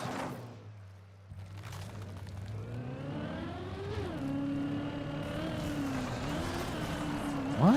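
A car engine in the racing game Trackmania, on an ice track, drones and climbs in pitch as it revs and accelerates, with shifting tones and a brief rise at the close, steady and moderately loud.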